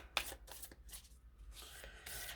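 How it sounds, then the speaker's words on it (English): Self-made oracle deck printed on good-quality cardstock being shuffled by hand, a run of soft papery riffles and slides in uneven bursts, close and quiet. "And always a great shuffle."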